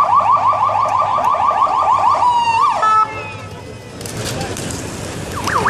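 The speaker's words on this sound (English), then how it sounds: "Ambulance and everything." A rapidly wailing siren, as from an ambulance moving through street traffic during a roller-skating parade in Warsaw, loud and close, that cuts off abruptly midway, leaving street noise and a brief higher siren tone near the end.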